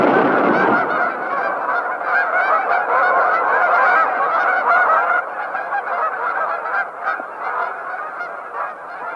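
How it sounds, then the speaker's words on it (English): A large flock of geese clustered densely on the ground at Horicon, honking continuously in a loud, overlapping chorus that stays close and steady throughout, easing slightly in the second half. "With the geese clustered densely in correct position now"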